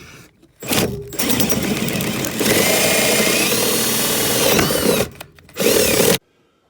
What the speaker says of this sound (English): Going to drill up in that corner to get the cable up.